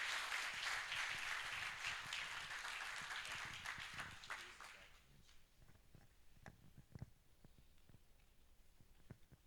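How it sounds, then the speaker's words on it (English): An audience at a national banking and ethics conference applauds to welcome a speaker, with a full, fairly distant wash of clapping that thins after a few seconds into scattered single claps. "Please welcome Mr. Robert Jato with a round of applause."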